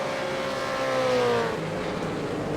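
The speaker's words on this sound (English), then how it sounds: "Just hear the roar of these cars." V8 race car engines, including a Ford Mustang in a veterans racing round, roar steadily with a rising then falling pitch as a car passes close by, loud and unbroken.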